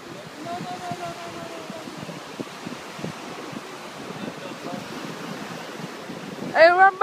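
Ocean surf washes in steadily under gusts of wind, with a brief high-pitched voice near the end.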